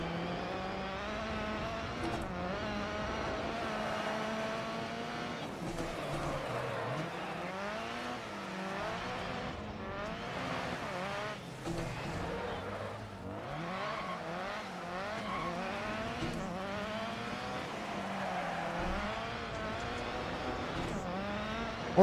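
Subaru rally car with very short gearing and a damaged front, engine held at full throttle on a Dirt Rally stage, loud and close, rising and falling pitch through gear changes, with tire noise and no talk.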